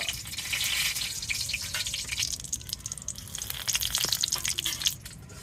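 Potatoes frying in a pan at home, a soft steady sizzle with crackles and small pops, fairly faint and close.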